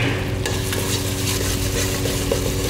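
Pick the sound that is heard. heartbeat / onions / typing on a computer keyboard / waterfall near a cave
onions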